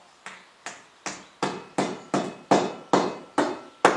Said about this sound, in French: j'aurais jamais su enfoncer la cheville. Bon marteau, ça va tout seul.